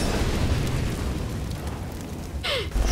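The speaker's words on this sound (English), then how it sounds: "Throwing flashbang." A flashbang grenade detonates in a CS:GO match, a short bright burst rising out of steady, dense game noise near the end, leaving a brief ringing sweep behind it.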